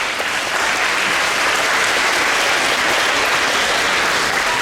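An audience at a middle school band spring concert claps steadily, a dense, loud and even wash of applause that holds at the same level throughout, with no speech over it.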